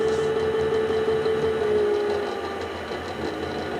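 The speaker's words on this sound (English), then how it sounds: "I'll put on a rinse cycle just for you guys." Miele Novotronic toy washing machine running a rinse cycle, a continuous whirring motor whine with a steady tone that fades slightly toward the end, close and alone.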